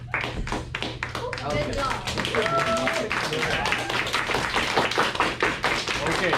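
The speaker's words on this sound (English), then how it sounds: "More clapping." Students in a leadership class clap for a classmate, a quick run of sharp, close hand claps in an uneven rhythm, with a teacher's voice speaking over them in the room.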